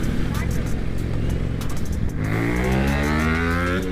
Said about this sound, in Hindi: ये बाइक का आवाज़ इतना लाउड है कि ऐसा लग रहा है कि अकेली बाइक चल रही है रोड पे